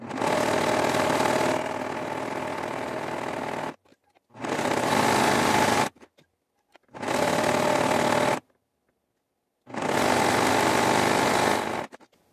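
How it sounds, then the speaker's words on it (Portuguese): Sewing machine running a zigzag stitch around a fabric piece, in four separate bursts of fast, buzzing stitching with short pauses between them, close and clear with no talking. "vamos passar uma costura em zigue-zague em volta dessa peça todinha"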